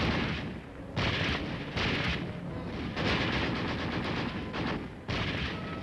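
Dense gunfire and artillery fill a street battle in the city of Taejon, a continuous loud roar of bursts and booms repeating in heavy waves with no pauses.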